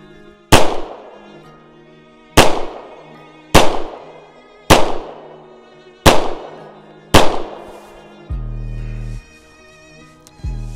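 Six sharp gunshots ring out at a shooting range, evenly spaced about a second or two apart, each loud crack decaying quickly, followed by a low hum and one more faint pop at the end.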